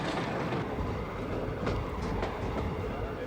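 A small vintage train belonging to a railway enthusiasts' club rolls along the rails in Argentina, giving a steady close rumble with faint rhythmic wheel clatter and no voices.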